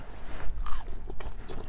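Honey butter chicken wings crunch under a few close, loud bites and some chewing in a short burst, with no talk.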